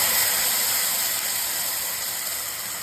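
A paste of three tomatoes, ginger, garlic and a little coconut fries in a pan for mutton gravy, a steady, even hiss that fades slightly toward the end.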